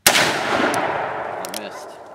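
A single loud shot from a Ruger Redhawk .44 Magnum revolver fired outdoors at a steel target on frozen ground, its sharp crack followed by a long rolling echo that fades over two seconds.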